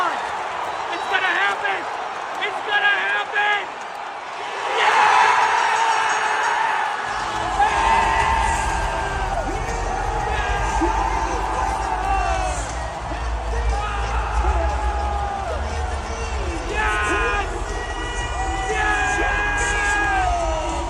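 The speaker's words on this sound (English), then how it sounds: "Here's the crowd and us reacting to Chelsea Green winning the title." Arena crowd at WWE SummerSlam in Minneapolis roaring as Chelsea Green wins the title, sustained cheering, whoops and yells building with a deep low rumble, with excited voices of nearby people shouting over it.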